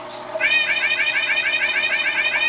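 A cat gives a long run of rapid, chattering meows in a steady rhythm, loud and close, continuing without pause after a brief quiet start.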